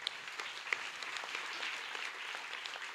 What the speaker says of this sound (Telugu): గట్టిగా దేవునికి చప్పట్లు కొట్టండి